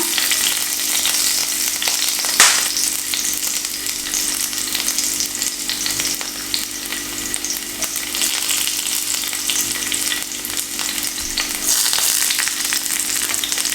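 Garlic sizzles in hot olive oil for an Indian-style veg pasta: a steady, close, dense hiss that holds evenly throughout, with one brief utensil clack early on and no voices.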